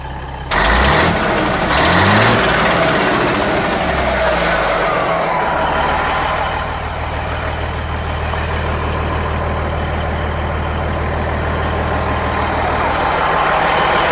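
An engine running in a revived abandoned truck, with a few throttle blips at the start and then a loud, steady low idle that holds close for the rest of the stretch.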